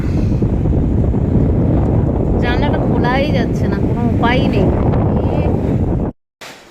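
Gusty wind lashes a home during a heavy rainstorm, a dense, loud, unbroken roar that cuts off abruptly near the end, while someone talks over it.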